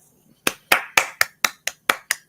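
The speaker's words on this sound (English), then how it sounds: "Let's give her a bunch of applause, as Kathy would say." An audience applauds with nine or so sharp, evenly spaced claps that start after a brief quiet and carry on at a steady, brisk rhythm, close and fairly loud.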